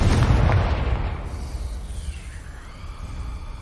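A Confringo spell explosion from the Hogwarts Legacy video game bursts loud and close at the start, then decays into a long rumbling, crackling tail with no voices.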